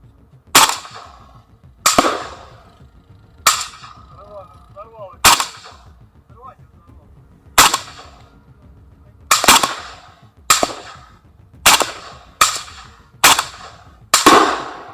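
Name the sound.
light weapons firing remotely at a PTM-3 mine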